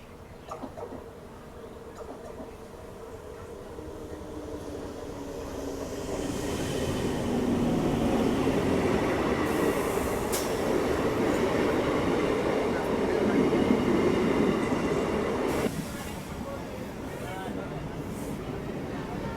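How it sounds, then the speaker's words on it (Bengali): A MEMU train rolls into platform one at Kulti railway station in light rain. Its steady rumble grows louder and carries on with rhythmic wheel clicks and clatter, then eases, with a voice heard at times. "কুলটি স্টেশনের এক নম্বর প্ল্যাটফর্মে একটা মেমু ট্রেন ঢুকছে"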